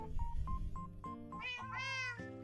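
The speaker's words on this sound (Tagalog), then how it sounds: "Pusa dito ah." A cat meows repeatedly, with several short, close calls followed by longer, drawn-out, rising meows, clear and loud with no talking.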